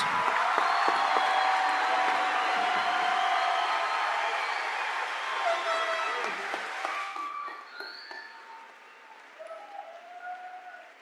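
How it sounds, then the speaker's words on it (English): Audience applause for graduates at a 2024 high school graduation ceremony, a broad steady clapping that fills the room for about seven seconds, then thins out and fades to scattered claps. "Let's give a big applause for our graduates."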